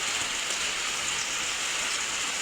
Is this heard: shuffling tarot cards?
no